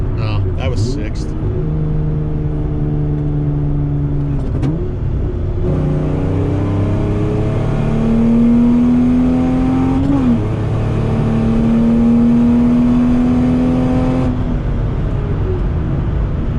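A Mazda Miata engine pulls hard through the gears up into sixth, with rising harmonic sweeps, a brief drop at each shift and strong, steady loudness. Someone talks over the engine noise.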